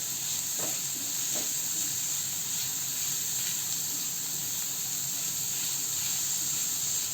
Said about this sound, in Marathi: त्यामध्ये बारीक चिरलेला कांदा परतून घेऊया